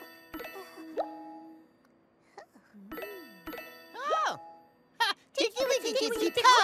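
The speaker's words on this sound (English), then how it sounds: "Ring, ring! It was the tubby phone." The tubby phone on Teletubbies rings out in bright, tinkling chime tones that repeat in short bursts, mixed with playful cartoonish voices and sliding sound effects.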